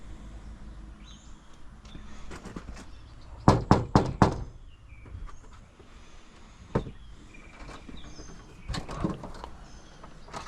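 Knuckles rap on a house door in a quick cluster of three or four sharp knocks, followed later by a single knock and another short burst, with quiet room noise in between.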